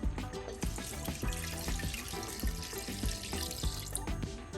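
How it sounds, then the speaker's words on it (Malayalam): A glass of milk being poured into a mixer jar for a banana shake, giving a steady, close splashing gush of liquid with small spattery bursts, fairly loud and without talk. "ഒരു ഗ്ലാസ് പാല് ഞാൻ ഒഴിച്ചിട്ടുണ്ട്"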